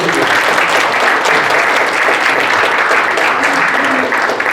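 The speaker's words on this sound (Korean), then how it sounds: "네, 악수를 하고 큰 박수 부탁드립니다." Loud, sustained audience applause after a handshake at a Korean army officers' association forum and inauguration ceremony, dense even clapping filling the room throughout.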